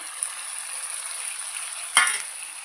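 Chopped tomatoes fry in a chicken curry pan with a steady, even sizzle, and one brief louder burst partway through as the pan is stirred.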